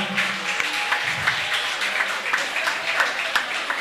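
An audience at a school quiz contest applauds a team with dense, moderately loud clapping, with brief voices murmuring underneath.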